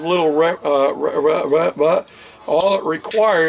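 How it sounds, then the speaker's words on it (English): Pair of metal musical spoons joined together and played in rhythm, clicking and clattering close by under a continuous speaking voice. "It's called musical spoons."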